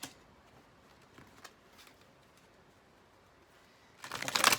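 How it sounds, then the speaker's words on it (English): Tarot cards shuffled close by, with a few faint riffles followed by a louder burst of flicking cards at the end, with no talk. "Couple of shuffles."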